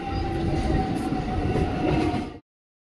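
A train at Katwa Junction railway station rumbles steadily and loudly with a sustained tonal hum of rolling wagons, then cuts off abruptly after about two and a half seconds.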